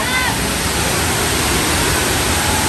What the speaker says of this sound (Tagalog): Nakakita na ng original na falls.